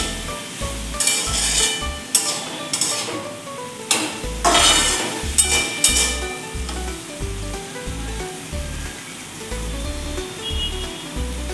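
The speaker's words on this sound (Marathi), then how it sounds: "हे सर्व छानपैकी मिक्स करून घेऊयात" Cluster beans with green chilli and garlic stirred in a hot pan over high flame, country-style gawar bhaji; a steady close sizzle of frying runs throughout, broken by repeated scraping strokes of the spoon against the pan.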